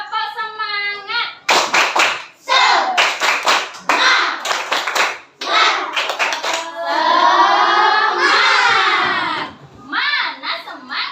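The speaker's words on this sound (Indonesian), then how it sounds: "Yuk, tepuk semangat." A class of children claps a rhythmic cheer in a classroom lesson, sharp patterned hand claps in bursts alternating with loud chanted children's voices and a teacher's speech.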